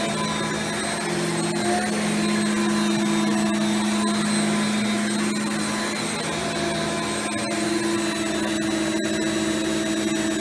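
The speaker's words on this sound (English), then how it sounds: "Power nozzle sounds way healthier" A steady, loud Rainbow D3c canister vacuum with its power nozzle running, a constant whine and hum without pause, close by and unaccompanied by speech.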